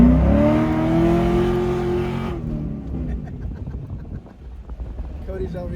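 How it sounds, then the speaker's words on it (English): A C5 Corvette's engine revs hard and climbs in pitch up to the rev limiter, then cuts off. Wind noise and rough engine sound follow, up close from inside the moving car. "there goes the rev limiter"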